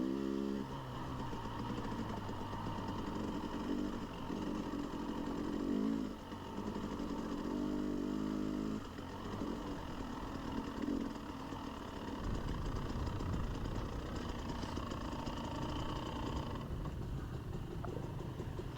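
Several motorcycles ride together on dirt trails during a group charity toy ride, their engines droning and revving continuously at moderate distance, with no talking.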